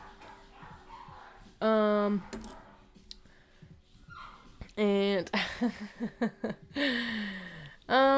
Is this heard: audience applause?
no